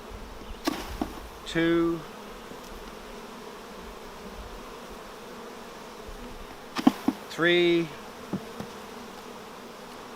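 Honeybees buzzing around a hive frame as it is shaken during a hive split, a low steady hum with two short louder buzzing bursts, while a man counts aloud.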